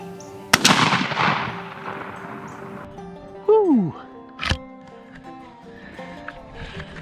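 A shotgun fires a single sharp blast through a 665 Indian Creek turkey choke tube, loud and outdoors at the start, followed by talk and a horse whinnying in the background.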